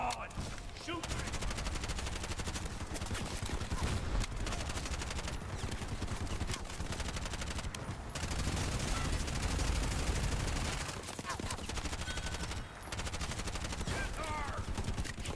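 Gunfire in a video game boss fight: fast, dense bursts of automatic shots, loud and nearly continuous, with brief gaps and game effects mixed in.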